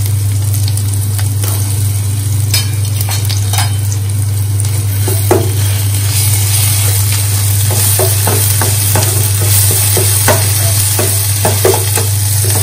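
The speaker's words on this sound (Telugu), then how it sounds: "ఇప్పుడు ఈ ఆయిల్లోకి మనము ఉల్లిపాయలు వేసేస్తాం" Onions fry in hot oil in a pan for stuffed eggplant curry, a loud close sizzle with frequent scraping and clattering stirring strokes over a steady low hum.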